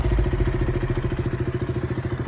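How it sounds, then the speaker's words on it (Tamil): Motorcycle engine running near, a steady rhythmic low chugging putter with regular pulses, loud and constant, no talk over it. "காடி சவுண்டு கேட்குது, யார் வரா?"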